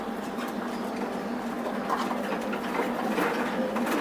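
Racing pigeons cooing softly in a loft, low repeated coos over a steady background murmur, no talking.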